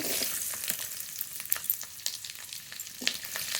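Chopped garlic sizzles in mustard oil in a kadai with dried red chilli and nigella seeds, a steady crackling hiss broken by a few sharper pops and light stirring, close and alone.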